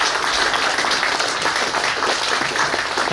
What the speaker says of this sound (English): another round of applause for this amazing man to my right